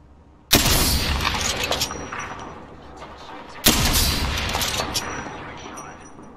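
Two heavy bursts of gunfire in the battle royale game Apex Legends, each a sharp loud crack followed by rattling shots and decaying noise, spaced about three seconds apart.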